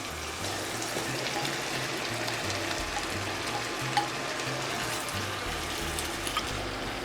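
Mushrooms going into a frying pan with garlic, chicken and vegetable juices, giving a steady, dense sizzle and bubbling hiss throughout with a faint clink, no talk.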